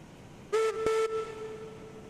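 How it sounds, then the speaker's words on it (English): Steam locomotive whistle in the train simulation game Railroads Online, two short loud blasts in quick succession with a steady tonal pitch that rings on faintly after. "Whistle's got some authority."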